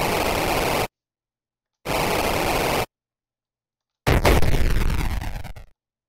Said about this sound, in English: someone blew up the self-propelled gun behind us